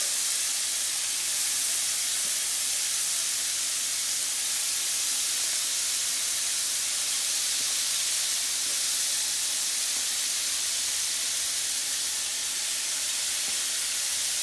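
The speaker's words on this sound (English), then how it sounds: "See, this is sizzling nicely." Salmon fillets laid in a single layer sear in a hot pan with citrus, giving a steady, dense sizzle and hiss that runs unbroken and fairly loud throughout, with no voices.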